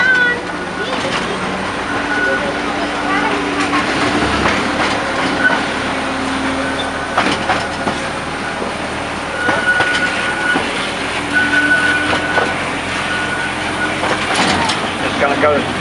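A narrow-gauge train at Driving Creek Railway rolls slowly through points toward a bridge with a steady, close mechanical rumble and occasional squeals and clanks. A voice talks over it.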